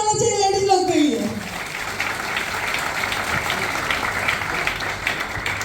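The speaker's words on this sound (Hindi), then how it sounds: "तो जबरदस्त ताली होना चाहिए लेडीज लोग के लिए।" Audience applause for the women, a dense crowd clapping that starts under a speaker's voice and continues steadily, moderately loud and evenly sustained.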